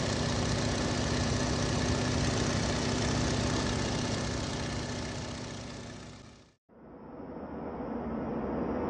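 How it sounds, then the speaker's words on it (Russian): A twin-engine airplane's engines drone loud and continuous with a steady tonal hum, cut off briefly and then resuming. "Двухмоторный самолет."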